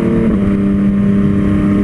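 A Yamaha MT-09 motorcycle engine idles and revs with a loud, close, throaty rumble. The steady low harmonics rise slightly through a short burst.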